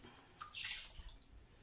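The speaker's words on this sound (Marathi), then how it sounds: "तर आपण त्यात पाणी घालायचं आहे." Water is poured into fish curry masala for a thin curry, giving a short liquid splash and gurgle that swells in the middle, then trails off into light drips.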